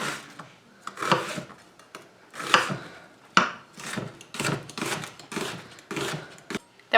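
Onions are sliced with a kitchen knife into half circles for a vegan French onion soup, giving a run of close, crisp cutting strokes in a steady rhythm of about ten strokes.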